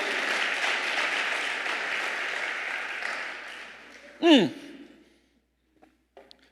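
A church congregation applauds in a sustained wash of clapping that slowly fades over several seconds, followed by a short spoken exclamation and then near silence.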